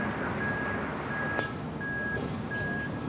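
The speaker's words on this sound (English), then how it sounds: "Sounds like a live truck backing up." A truck backing up gives steady, evenly spaced reversing beeps at moderate distance, four long tones over a constant outdoor rumble near an airport.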